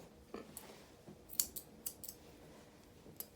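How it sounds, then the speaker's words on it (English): Straight 7-inch grooming scissors snip a dog's topknot hair in short, crisp cuts, some single and some in quick pairs, close and clear in a quiet room. "I've been doing that with my 7-inch scissors, straight"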